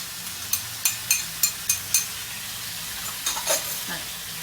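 Squid stir-fried in a pan with holy basil, red spur chilies and bird's eye chilies, a steady sizzle broken by a series of sharp spatula scrapes and stirring clacks, close and fairly quiet, with no talking.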